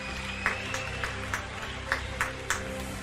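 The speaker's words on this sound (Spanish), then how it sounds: "Aquí están como aplauden." At the Globe Soccer Awards ceremony, faint, steady claps repeat at an even pace over a constant background hum.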